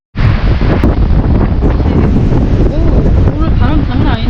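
Strong wind buffets the microphone in open countryside in Cass, New Zealand, a loud continuous roar and rumble that starts abruptly and persists throughout without letting up.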